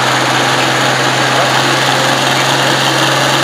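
A small engine on a homemade rut cutter runs at a steady high-pitched drone, loud and close, with no talking over it.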